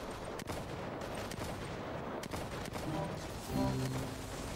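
Rifle shooters in a Minecraft zombie-apocalypse game fire in scattered single shots and short bursts, sounding moderately distant, with a low mechanical hum joining toward the end.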